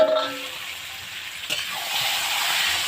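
Hand-marinated chicken fries with onion and garlic in a pan, giving a continuous, close hiss of sizzling oil that swells slightly toward the end, with a brief clatter partway through.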